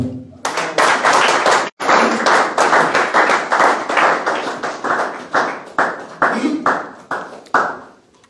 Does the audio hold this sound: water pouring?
no